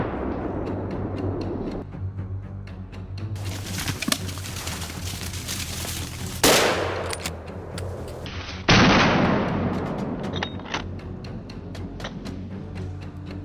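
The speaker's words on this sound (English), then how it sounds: "decisive gunshots ring out until the beast staggers" Gunshots fired at a wild boar in a field: a few sharp loud cracks with echoing tails spaced several seconds apart, over an outdoor background of birds cooing and chirping.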